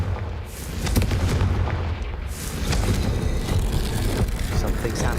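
A Confringo explosive spell blast in Hogwarts Legacy, heard as dense booming detonations with a rumbling low end and sharp cracks, sustained and loud throughout, with game effects layered over it.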